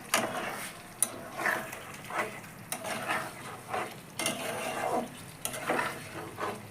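Chicken malai kofta curry bubbling at a simmer in a pan as koftas are dropped in, with soft repeated plops and stirring clatter over a steady low boil, close and fairly quiet.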